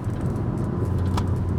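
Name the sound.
Alfa Romeo Giulia Quadrifoglio exhaust blips on downshift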